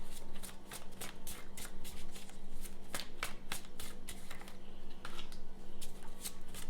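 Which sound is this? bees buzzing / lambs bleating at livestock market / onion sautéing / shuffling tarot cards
shuffling tarot cards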